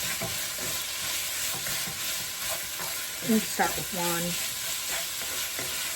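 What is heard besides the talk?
food sizzling in a pan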